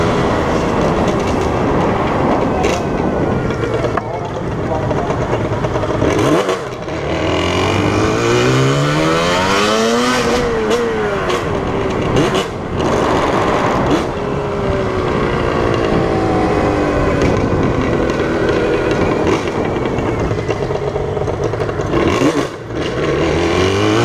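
A Yamaha RD 350 motorcycle with a Sarachu exhaust revs hard, its loud, raspy engine note climbing and falling in repeated sweeps with a few short drops, close and continuous throughout.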